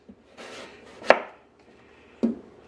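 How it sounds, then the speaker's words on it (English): A knife slices through a vegetable on a board in a few separate cuts, each a crisp, close knock followed by a brief scrape, with quiet gaps in between. "the whole idea here is to cut it into slices"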